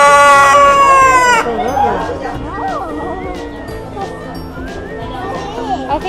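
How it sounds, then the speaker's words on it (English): A brown chicken in the animal barns at a county fair gives a loud, clucking, crow-like call up front, then fainter fowl noises continue beneath nearby people talking. "Hi, brown chicken."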